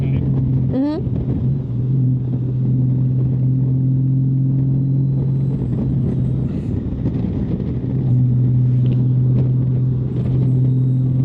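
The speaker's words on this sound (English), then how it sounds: "it's still an automatic shift, but it's in sport mode. So the throttle's more responsive and she'll hang on to a gear." Honda Gold Wing motorcycle ridden in sport mode with a passenger aboard, its engine giving a steady loud drone held in gear throughout, with a brief rising whine near the start and no talk.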